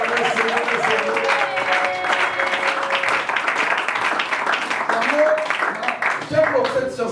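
A church congregation applauding during a fervent worship service, dense continuous clapping from a crowd with sung or spoken voices and tonal notes rising over it.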